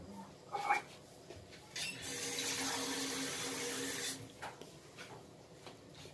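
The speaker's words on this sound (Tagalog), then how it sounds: "pagkatapos natin siyang malagyan ng tubig" Water pours into a cooking pot for chicken pastel, a steady hissing stream lasting about two seconds, loud and close, between brief clinks and handling noises.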